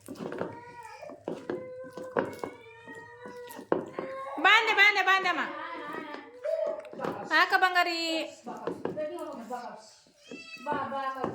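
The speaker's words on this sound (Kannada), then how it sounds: "ಬೆಕ್ಕು ಒಂದು ನೋಡಿದ್ರೆ ಭಾಳ ಗಪ್ಪ ನೋಡ್ರಿ" A house cat meows repeatedly in a home kitchen, with short and drawn-out cries close by, some loud and insistent, while someone talks to it between the calls.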